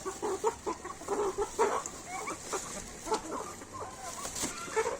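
Native parawakan chickens, a large native breed, cluck repeatedly at feeding time, with several overlapping calls close by against a steady outdoor background.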